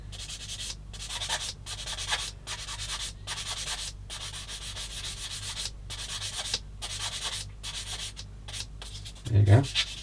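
Steady rhythmic rasping of sandpaper rubbed back and forth on a hard plastic model kit part, close up, ending with a brief low thump.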